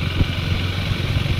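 A 390 motorcycle engine burbles at low revs while ridden slowly, a steady close mid-pitched thrum with faint rhythmic pulsing and no talk.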